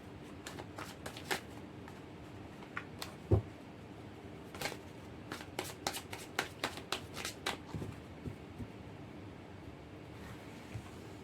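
Tarot cards being shuffled by hand, a quiet run of crisp riffling flicks and taps in uneven clusters, close and soft with no talking.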